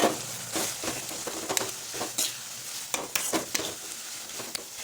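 An onion and tomato masala with ginger garlic paste fries in a pan and is stirred, making a continuous close sizzle with scraping spoon strokes in irregular bursts, no speech.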